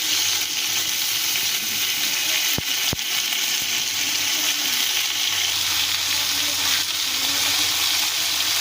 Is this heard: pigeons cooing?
no